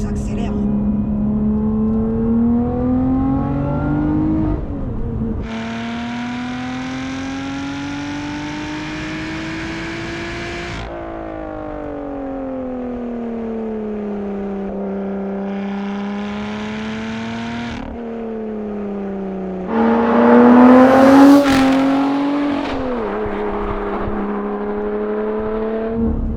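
A Lotus Evora GT410 Sport engine revs up loudly through several gears, its pitch climbing and dropping at each shift before a harsher, louder surge near the end.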